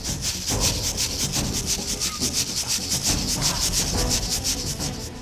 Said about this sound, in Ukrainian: Для цього ми взяли металічну щітку.